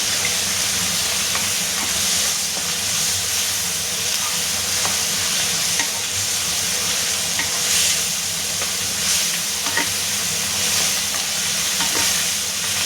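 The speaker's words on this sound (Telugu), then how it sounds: "ఈ పల్లీలు అనేది వేసుకోవాలి ఫ్రెండ్స్, బాగా ఆయిల్లో మగ్గనివ్వాలి." Peanuts and coriander leaves sizzle in hot oil for a Telugu fenugreek-leaf chutney. A steady, loud frying hiss runs throughout, with occasional pops and stirring scrapes, no voices.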